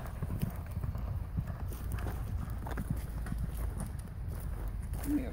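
Horses walk along with a steady clip-clop of hooves, their gait neat like a circus horse. The hoofbeats are muffled and low, mixed into constant outdoor rumble.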